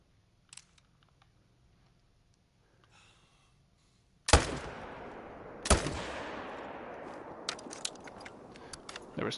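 A hunting rifle fires at a distant wolf in theHunter: Call of the Wild, one sharp loud crack followed by a long rolling echo, then a second shot with its own echoing tail, over quiet wilderness ambience.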